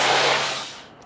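A paint spray gun releases a pressurized burst during a VW Tiguan job, a loud close hiss that fades out within a second.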